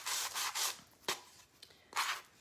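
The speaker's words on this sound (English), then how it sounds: "I'm gonna take this little sanding buff and I'm just gonna sand the sides a little bit" A small sanding buff rubs along the edges and sides of a wooden piece, giving bursts of rough, scratchy friction that come in several separate strokes. The strokes sound close and moderately loud, with one sharp knock partway through and no talk.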